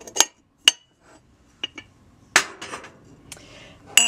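A small, cute Japanese ceramic teapot with a strainer inside, handled nearby: several sharp, separate clinks and knocks, then a louder cluster of rattling ceramic contacts, ending with one more bright clink, no talking.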